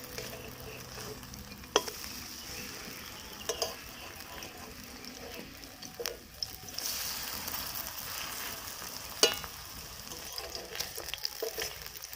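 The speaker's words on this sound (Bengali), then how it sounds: "তো এই একইভাবে বাকিগুলোও ভেজে নেব।" Pumpkin flowers fry in a generous amount of oil, a faint continuous sizzle with occasional sharp pops and soft scrapes of stirring, close and quiet, with no talking.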